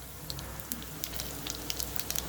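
Cumin seeds, dal and urad frying in a pan, a steady low sizzle with scattered light crackling pops throughout, close and alone with no talk.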